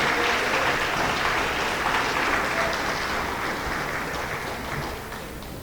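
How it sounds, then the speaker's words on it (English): An audience at a junior high awards program applauds 8th grade award winners, a full, even patter of many hands clapping that gradually tapers off over several seconds. "So let's give everyone a round of applause."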